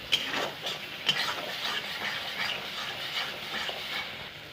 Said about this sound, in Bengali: একটু নাড়াচাড়া দিয়ে এটাকে ভালো করে কষিয়ে নিতে হবে